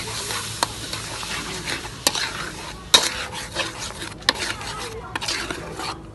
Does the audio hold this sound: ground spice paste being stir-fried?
yes